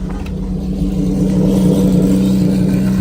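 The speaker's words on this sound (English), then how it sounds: "MC12 Corsa on the road" A Maserati MC12 Corsa with its roof removed drives along a road during Monterey Car Week, its engine a loud, steady low drone that swells slightly as it passes close by.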